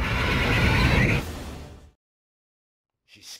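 A mare lets out a loud, close, shrill whinny lasting just over a second that fades out into silence, followed by a brief faint noise at the end.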